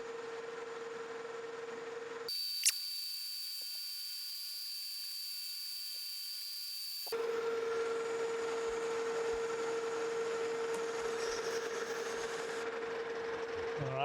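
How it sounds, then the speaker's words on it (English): Monarch metal lathe turning down a headstock spindle to one inch, a steady machine hum with a constant tonal whine, briefly interrupted by a high-pitched squeal section before the running tone resumes at moderate level. "let's get this turned down to 1 inch"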